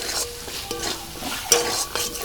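Semolina with green peas, spices, sugar and salt being sautéed in a pan, a continuous close scraping and stirring over a light sizzle, with no voices.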